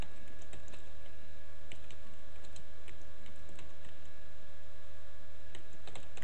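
Steady typing on a computer keyboard, with close, continuous key clicks over a constant electrical hum and no voices.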